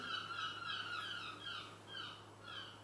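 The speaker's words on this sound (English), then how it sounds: "It's Alfred Hitchcock's The Birds Outside." Several birds call outdoors, harsh fowl-like squawks and gobbling cries repeating in loose bursts at moderate distance over a steady background hum.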